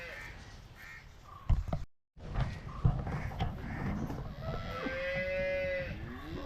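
A pregnant Vechur cow on a Kerala farm gives drawn-out moos, with crows cawing nearby and some clatter and rustling around the animals.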